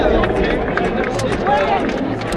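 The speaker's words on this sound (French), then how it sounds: "Vous pouvez vous applaudir bien fort, Lille" A large outdoor crowd in Lille applauds and cheers at a festive Tour de France event, with dense, steady clapping and babble filling the scene throughout.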